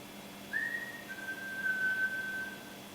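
A single sustained, clear whistled note lasting a bit over two seconds, fairly faint and steady in pitch, from a person during a paranormal investigation at High Tide in Cullercoats, with quiet room tone around it and no talking.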